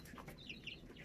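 Chickens, kept for eggs, give a few soft clucks and high chirps over about a second, faint and close, with no talking.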